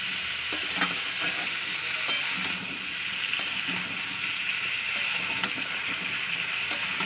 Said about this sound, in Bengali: 2 মিনিট ধরে আমি একটু ভাজা করবো কলা আলুটাকে।